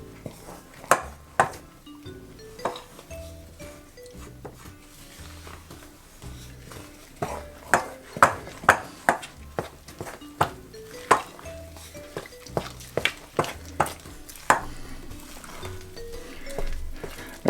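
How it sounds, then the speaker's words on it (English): A spoon stirs a flour mixture in a bowl, producing a steady series of sharp clinks and knocks against the sides at an uneven rhythm, close and moderately loud, with soft scraping between hits. "We're going to give this a good stir through now."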